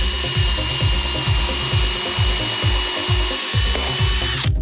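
A power drill whirs loudly into a PVC track on a utility trailer in a repeating pulsing rhythm, close up, with a grinding bite that stops abruptly at the end.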